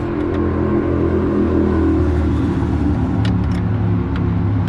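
Cars passing on a road outside on a busy day, heard as a continuous low traffic rumble with a rising and falling engine drone and a few faint clicks.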